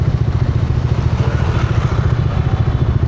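A motorcycle engine runs steadily close by, a loud, throbbing low rumble with a fast pulsing beat and some mechanical clatter throughout.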